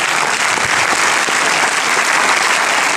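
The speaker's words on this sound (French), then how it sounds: "On l'applaudit bien fort." Loud, dense applause from a cinema audience greeting actress Michèle Laroque at a film premiere, a continuous roar of many hands clapping close and full throughout.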